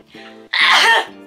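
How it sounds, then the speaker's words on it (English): A single loud sneeze from a woman, a short sharp burst with a brief breathy intake before it, close to the microphone and heard alone. "I'm gonna sneeze."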